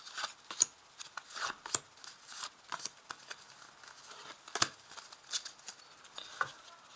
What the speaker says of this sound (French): on va ajouter des cartes pour comprendre une troisième ligne